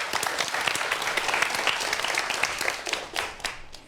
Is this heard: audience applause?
yes